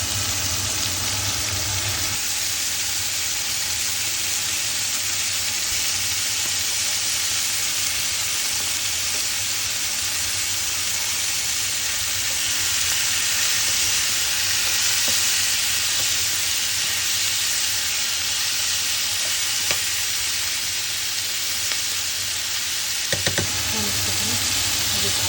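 Peppers with black pepper, salt and hot pepper searing in a pan, a loud continuous sizzle and hiss that runs steadily throughout, with a faint clatter near the end.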